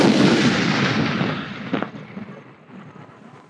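Sivakasi multi-colour aerial firecracker shots burst in a loud, dense volley of booming crackles that gradually thin out and fade into scattered pops and lingering rumble.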